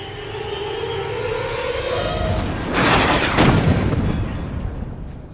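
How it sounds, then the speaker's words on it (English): A deep, rumbling blast bursts out on top of a bunker during the Vietnam War over a steady low background drone, followed by a second crackling surge before fading back. "All of a sudden, I hear an explosion on top of the bunker."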